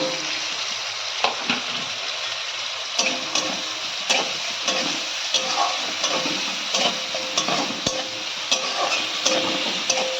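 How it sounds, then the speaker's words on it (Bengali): Onions sizzle steadily in a hot pan for chicken kasha, with frequent sharp scrapes and taps of a spoon stirring them, close and continuous. No talking. "পেঁয়াজটা আমি লাল লাল করে ভাজবো"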